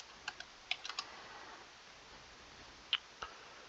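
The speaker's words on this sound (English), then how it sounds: "I'm going to retype it just to show it" Someone typing on a computer keyboard while writing Java code: a few quiet, sparse key clicks in short clusters against faint room hiss.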